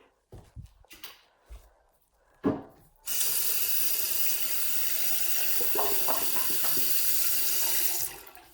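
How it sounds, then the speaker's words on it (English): After a few soft handling knocks, a tap opens and water runs steadily into a sink while soap is rinsed off a squishy toy, with brief splashes before the flow stops. "Let me take it to the tap to get the soap off it."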